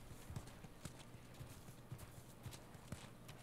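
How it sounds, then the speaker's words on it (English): Horse hooves clip-clop at a steady walking pace in The Last of Us, a series of soft, fairly faint thuds over a low background hum. "You guys have horses."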